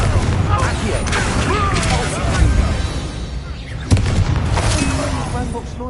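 Spell blasts and explosions in the Hogwarts video game crackle and boom, with a few sharp bursts over a constant noisy game background. A voice speaks over the action.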